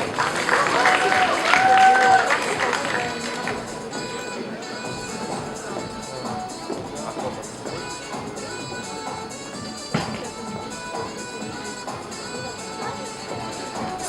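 Audience applause at a student of the year award ceremony, loud clapping from a crowd that swells at first then settles into steady lighter clapping, continuing throughout without talk.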